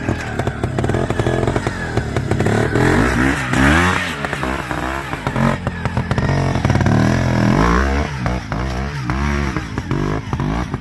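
A twin-shock trials motorcycle, a 250, rides a hard section at a national trials event, its engine loud and close, barking and revving in short bursts with clatter from rocks, and no talking.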